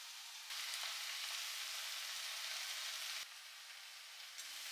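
Green chilli and small onions sauté in coconut oil, a faint steady hiss that swells a little, then drops back after a brief click, quiet and even, with no voices.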